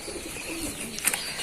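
Racing pigeons at a pigeon farm give soft, low cooing calls against a steady background hum, with a brief burst of louder bird sound near the end.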